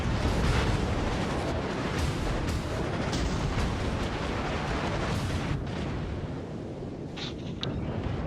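Naval gunfire in a warship video game: loud, rumbling booms and bursts follow one another over a continuous battle din, with no talking.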